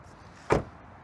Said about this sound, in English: let's check the quality of the vehicle by closing the door